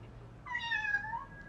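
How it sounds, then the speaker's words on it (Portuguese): A cat gives a single short, faint meow, a rising-then-falling cry of about a second over quiet background. "Acertou! É o gato!"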